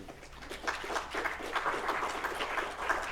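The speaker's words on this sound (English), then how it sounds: "Let's give Ken a round of applause, please" Audience applause at a talk on the Capitol and advocacy, a faint, steady wash of many hands clapping that swells slightly and continues throughout.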